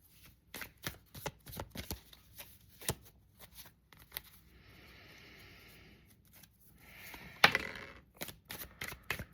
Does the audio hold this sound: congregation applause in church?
no